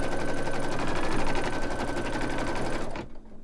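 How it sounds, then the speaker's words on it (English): An embroidery machine stitches an outline onto fleece fabric held in a hoop, a steady, loud, fast mechanical whirring that runs continuously and stops abruptly near the end. "So it's just going to do a little stitch out to show you where to put the fabric."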